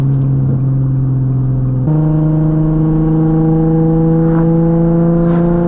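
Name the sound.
Nissan 370Z V6 engine with Tomei exhaust, driving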